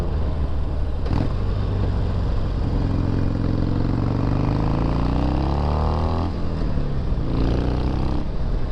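A Harley-Davidson XL883L Superlow 883cc motorcycle engine, loud and close, rumbling steadily and then revving up and down in rising and falling sweeps, with no talking.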